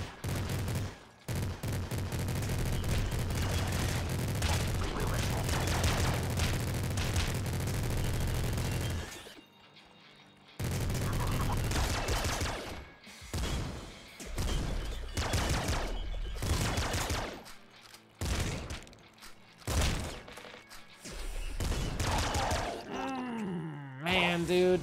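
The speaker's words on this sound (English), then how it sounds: "Minigun." A minigun in the video game Nuclear Throne fires a loud, dense, continuous roar of rapid shots. The stream breaks briefly partway through and then resumes in choppier bursts.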